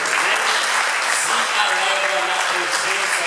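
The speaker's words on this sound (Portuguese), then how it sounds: "Dê uma linda salva de palmas para o Senhor" A church congregation applauding in praise during a worship service, making a dense, loud wash of clapping throughout with voices and shouts mixed in.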